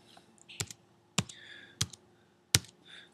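Four crisp, separate key presses on a calculator as numbers are entered, evenly spaced taps close up in a quiet room.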